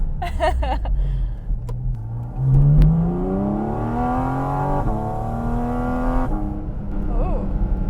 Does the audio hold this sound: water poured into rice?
no